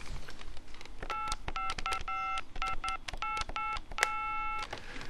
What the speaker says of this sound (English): Now, I'm going to ring John.